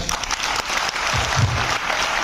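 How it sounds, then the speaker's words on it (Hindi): Loud, dense applause from an audience at a university motivational talk for students at LPU, a steady wash of clapping throughout with no voices over it. "thank you very much in दोनों के लिए तालियां"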